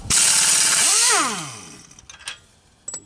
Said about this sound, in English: Gotta love air tools.